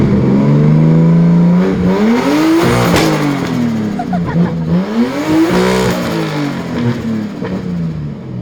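A Nissan S15 with a 3076 turbo revs hard against the rev limiter in a backyard, loud and close, its engine note climbing and bouncing off the cutout in repeated surges over about eight seconds.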